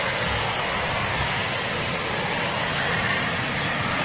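A Eurofighter Typhoon jet of 11 Squadron taxis out at RAF Coningsby, giving a steady, broad roar and rumble that stays even and fairly loud throughout with no voices.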